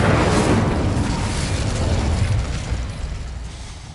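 Incendio fire spell burst in Hogwarts Legacy, a loud broadband whooshing roar with a low rumble that sustains for a few seconds and gradually fades.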